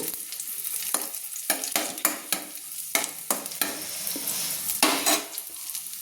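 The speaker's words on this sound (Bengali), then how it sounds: "আমার লঙ্কা আর রসুনের কোয়াগুলো তেলে কিন্তু ভাজা হয়ে গেছে" Chilies and garlic cloves sizzle in hot oil while being stirred, with repeated scraping strokes of a spoon against the pan in an uneven rhythm over a steady frying hiss, close and moderately loud.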